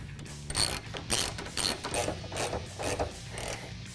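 A ratchet tightens bolts on a Rugged Ridge body-mounted heavy-duty tire carrier bracket for a 2007-2018 Jeep Wrangler JK. Close, rapid bursts of clicking come in a rhythmic back-and-forth pattern, with no talk.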